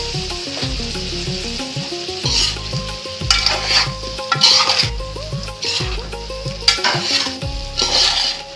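Small eggs frying in a pan with other added ingredients, stirred slowly and gently with a utensil, giving a steady close sizzle with soft scraping strokes and occasional light clinks of metal on the pan.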